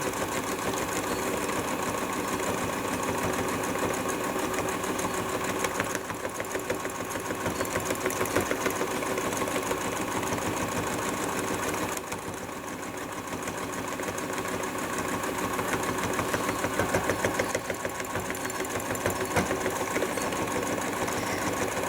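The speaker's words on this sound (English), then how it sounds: "you hear that tacking noise, that tack, tack, tack, that's it going through the paint, as well as the couple of layers of wadding" Sewing machine stitching through painted fabric and layers of wadding, making a fast, steady mechanical tacking that runs continuously at an even pace.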